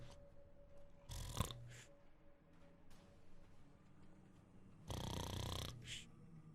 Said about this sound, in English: you hear the sounds of snoring.